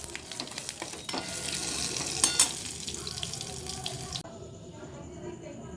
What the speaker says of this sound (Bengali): এবার শুকনো লঙ্কা দিয়ে দিলাম একটু ভেজে, একটু সাদা জিরে দিয়ে দিলাম ফোড়ন।